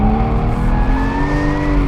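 A 2016 Porsche Cayman GT4 with a manual transmission oversteers through an elevation-changing corner at The Ridge race track, its engine loud and steady close by with a rising tone and tires scrubbing beneath it.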